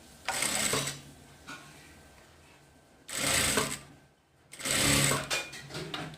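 A sewing machine stitches a cowl sleeve for an umbrella frock. The stitching comes close and clear in three short bursts with quiet pauses between them.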